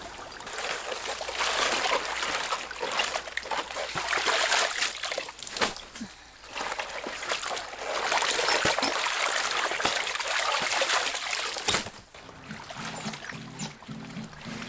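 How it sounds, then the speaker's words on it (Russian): Salt is stirred into water for kimchi brine, with a continuous sloshing, trickling swirl close by that rises and falls in waves and pauses briefly between bursts, with no talking. "Растворяем половину соли в воде."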